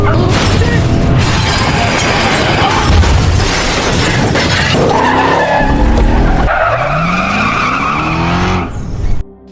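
A car skids hard with screeching tires and slams into a crash with shattering glass and heavy impacts, loud and close, then the tires squeal again before it cuts off abruptly.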